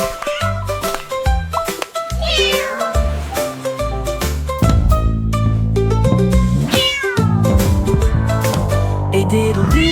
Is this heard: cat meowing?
yes